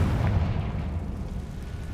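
A Confringo blasting spell going off in Hogwarts Legacy, heard as a deep, rumbling low boom that swells early and then rolls on steadily, with no clear sharp crack at the start.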